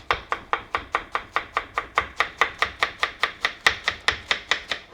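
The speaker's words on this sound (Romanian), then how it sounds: "o tai și pe asta pe jumătate așa, cât de simplu putem să o tocăm acasă." A knife chops through cabbage on a board in quick, even strokes, about four per second. The sharp, close thuds keep a steady beat throughout, with no voices.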